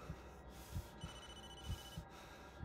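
A faint phone rings with an incoming call in Blair Witch, a thin electronic tone sitting over slow, soft rhythmic thumps in a quiet scene.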